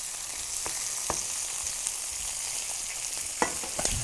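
Egg and shrimp sizzle in a pan for pad thai, a steady hissing fry with occasional clinks and scrapes of stirring, close and fairly loud.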